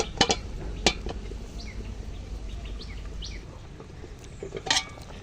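Curry is stirred in a pot on a brick stove outdoors, with a few sharp metallic clinks of spoon and lid at the start and end, while birds chirp faintly in the background.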